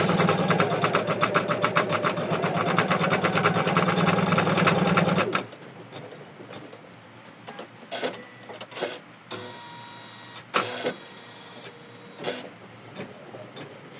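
An embroidery machine sews stem stitches around the appliques of a cozy house ornament, a loud, steady rapid needle chatter for about five seconds, then stopping, followed by quieter scattered clicks and brief mechanical bursts.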